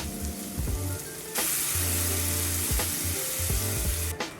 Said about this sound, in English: Saute the shrimp in some oil on both sides for about 2 minutes